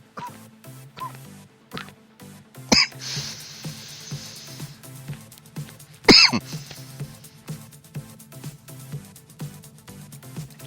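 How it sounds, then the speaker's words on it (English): Harsh, loud coughing fits after a dab hit, two big explosive bursts standing out among smaller throat-clearing hacks and breaths. "I'm sure going to cough my lungs out."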